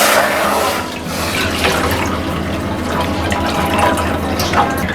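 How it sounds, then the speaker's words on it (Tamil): Strained nannari root essence is poured into a pot for syrup, giving a steady, close, fairly loud rush of flowing liquid that runs without break for several seconds. "இப்போ நம்ம வடிகட்டி வச்சுருக்க நன்னாரி எசன்ஸை ஊற்றிக்கலாம்."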